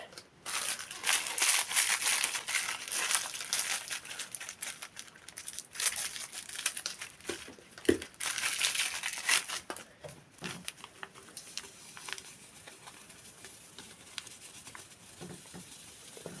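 Small yeast packets crinkle and tear, followed by a soft, patchy patter of yeast granules being poured out, close by and with no talk.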